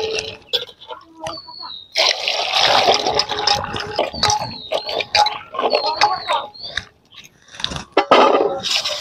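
Jujube fruit (ber) being washed by hand in water, with repeated splashing, sloshing and knocking of fruit against a vessel, loud and close, in irregular bursts over several seconds.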